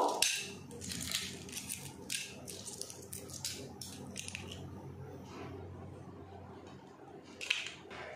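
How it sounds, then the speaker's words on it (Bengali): Boiled egg shells being cracked and peeled by hand, a run of close, crisp crackles and small crunches, irregular and fairly quiet over a low background. "এবার ডিমের খোসা আমি ছাড়িয়ে নেব।"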